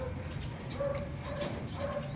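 Racing pigeons coo softly in repeated low calls over a steady outdoor background hiss, fairly faint and with no talking.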